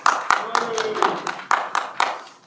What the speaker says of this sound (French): J'applaudis le maire.